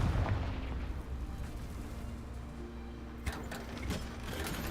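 A Confringo fire spell goes off in the video game Hogwarts Legacy, a low rumbling blast with a sharp crack partway through, heard alone.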